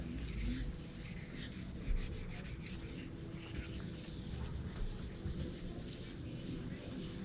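Hand sanding of car body work with 1000 grit sandpaper, a continuous close scratchy rubbing with back-and-forth strokes, steady throughout and without voices.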